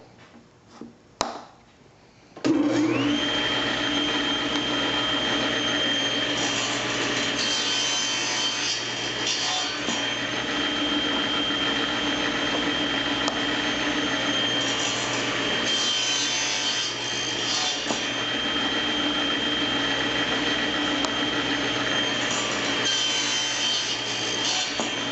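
A power saw cuts wood pieces for a zig-zag bowl, using a stop block and toggle clamp. A few knocks come first, then a loud, steady cutting whine runs without a break.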